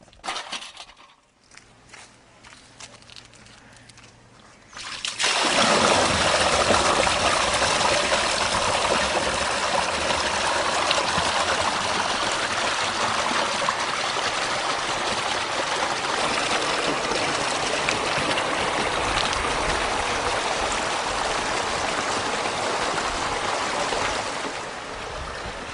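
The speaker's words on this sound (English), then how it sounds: "The supervisor unplugs the second tank to allow the excess water to drain off." Excess water drains from an indigo dye tank, starting with faint handling noises and then a loud, steady rushing stream that pours continuously for about twenty seconds before easing slightly.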